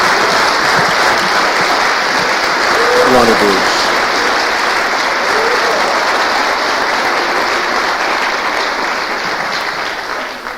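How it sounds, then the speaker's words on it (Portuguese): Sustained, loud applause from a large church congregation fills the whole stretch, with a voice briefly calling out over the clapping. "Dê uma salva de palmas ao Senhor."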